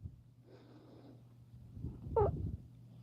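A cat makes soft, low purring and breathy sounds close by, ending in a short louder snort-like vocal burst, quiet and indoors without talk.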